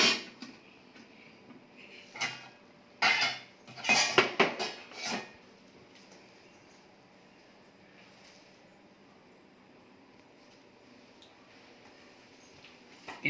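A 5-litre silver rice cooker pot rattles and clinks with metallic knocks in a short burst of handling, then quiet room tone follows.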